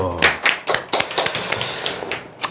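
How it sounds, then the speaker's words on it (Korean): A small group claps at a seminar, a short burst of scattered, uneven handclaps with a few sharper slaps, close and fairly loud before fading out. "박수"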